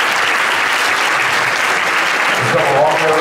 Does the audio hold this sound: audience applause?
yes